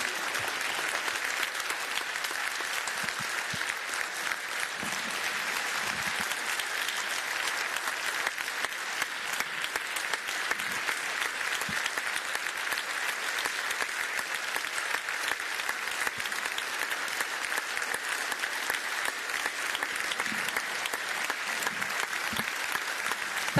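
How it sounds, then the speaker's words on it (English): A large conference audience at the opening session of the European Week of Regions and Cities applauds in a long, steady, dense round of clapping that holds at an even loudness for over twenty seconds. "Please give a round of applause."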